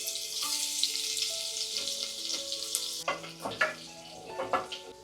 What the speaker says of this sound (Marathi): तेल गरम झाल्यावरती जिरा टाकलेला आहे आणि मग त्यानंतर हिंग टाकलेला आहे थोडासा, आणि मग त्यानंतर लसूण